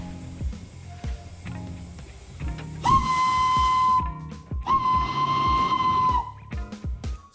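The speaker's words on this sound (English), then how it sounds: "I even got to blow the whistle." A steam locomotive whistle sounds two long, shrill blasts over rhythmic chuffing and hissing steam nearby.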